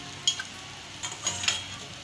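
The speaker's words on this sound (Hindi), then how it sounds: "मीडियम फ्लेम पे ही सेके दोस्तों पराठा को" Paratha frying in oil on a pan over a medium flame gives a soft, steady sizzle with a few brief clinks and scrapes, nearby and fairly quiet, with no voices.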